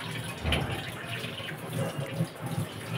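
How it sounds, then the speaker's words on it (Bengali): Running water from a kitchen tap, a steady soft gush splashing into a sink, fairly close and quiet, with no voices. "আর এখন জল চালু করে দেবো"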